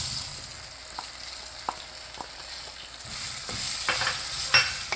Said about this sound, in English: And then I am adding the onion pieces.